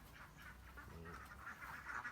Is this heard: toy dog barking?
no